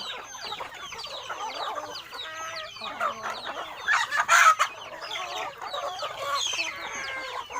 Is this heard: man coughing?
no